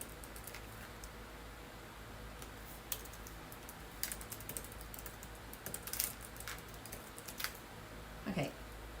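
Keys on a computer keyboard are pressed in scattered, soft clicks at close range, with irregular pauses between short bursts of typing.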